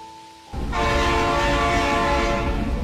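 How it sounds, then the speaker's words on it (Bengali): A loud train roars past close by, its horn blaring steadily over the rumble and rattle of the cars, after a brief quieter tone. "সাই করে ছুটে স্টেশন পেরিয়ে গেল এক গন্তব্যহীন ট্রেন"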